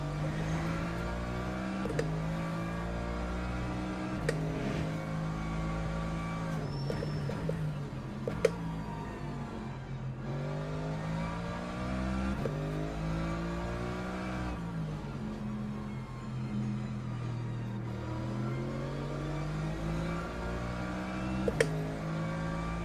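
A Porsche race car in Le Mans Ultimate drives with its engine revving and shifting, rising and falling in pitch over a long stretch, steady and fairly loud, with occasional clicks and no talking.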